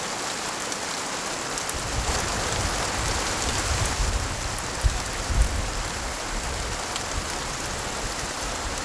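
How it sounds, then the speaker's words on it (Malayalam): Steady rain falls throughout, a dense even hiss of drops on surfaces with a few louder patters near the middle and no voices. "മഴ തോന്നിട്ട് പോവാ."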